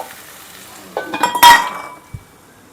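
Two eggs cracked into a pan over a low flame give a soft sizzle with a few brief clinks of a utensil against the pan, close by and fairly quiet, with no talking.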